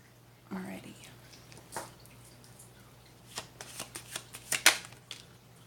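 A deck of tarot-style cards is shuffled up close. Soft riffles and taps build into a quick burst of crisp card flicks near the end, with a faint whispery voice in between.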